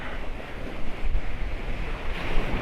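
Sea waves wash and break steadily on a resort beach at a lagoon, a broad continuous roar with swells rising and falling, mixed with gusty wind buffeting the microphone.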